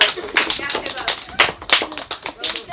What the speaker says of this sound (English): would like an ordinary clap from everyone